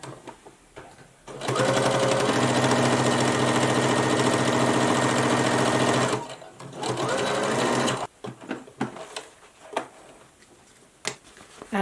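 Domestic sewing machine stitching a face mask seam from top to bottom: a steady, loud mechanical whir running about four seconds, a brief pause, then a shorter burst, with light handling clicks before and after.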